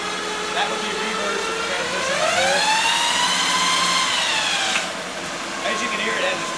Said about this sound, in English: As you can hear, it has a straight cut planetary in it.